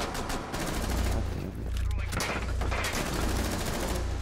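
Rapid automatic gunfire in Rainbow Six Siege, with bullets striking brick, rattles loud and continuous across the whole stretch in dense bursts, with brief dips between volleys.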